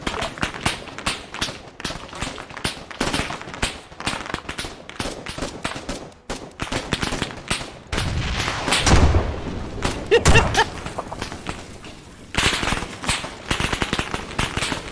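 Automatic machine gun fire in the Arma 3 military shooter, dense rapid bursts and scattered shots crackling throughout, with heavier booms near the middle and a loud stretch toward the end, close and harsh.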